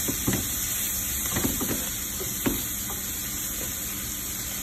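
Peppers and onions sizzle in butter in a pan, a steady loud hiss broken by a few crackling pops and scraping stirs, with no talking.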